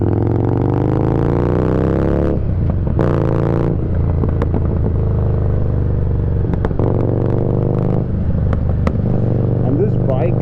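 A Harley-Davidson Street Rod motorcycle rumbles loudly on the streets of Downtown Dubai, its exhaust throbbing and rising with throttle, then dropping to a lower burble broken by sharp pops and crackles, while a rider talks over it.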